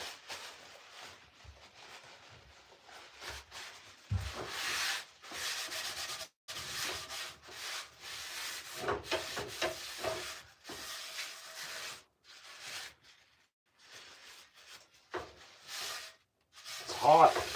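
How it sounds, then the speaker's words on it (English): Rag or towel rubbing and wiping a hot greasy pan in a cabin kitchen after cooking deer heart stew, soft intermittent scraping strokes at close range, quiet with brief pauses between passes. "while your pan's kind of hot, you just wipe it down"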